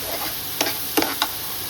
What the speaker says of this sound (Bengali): একটু জল দিয়ে দিচ্ছি, সামান্য একটু জল দিলাম, এতে মশলাটা ভালোভাবে কষি।